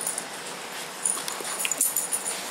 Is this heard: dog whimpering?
yes